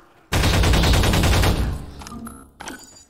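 A pulse rifle in Half-Life 2 fires a sustained, loud, close automatic burst lasting just over a second, then tails off into fainter game sounds and a short clank.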